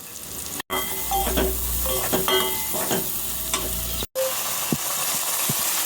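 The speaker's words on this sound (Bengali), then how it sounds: "সামান্য একটু জল দিয়ে হালকা করে ভেজে নেবো আগে একটু" Aloe vera frying lightly in a pan with a little water makes a close, steady sizzle with scraping stir strokes and a few knocks, cut by two brief silent breaks.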